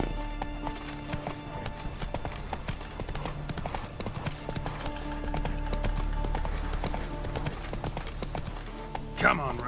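Hooves of the horse Roach clip-clop at a gallop in The Witcher 3: Wild Hunt, a steady rhythmic beat under game music and ambience, with a voice speaking briefly.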